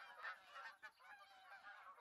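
A flock of Canada geese honks overhead in theHunter: Call of the Wild, faint overlapping calls repeating in rough bursts from a distance.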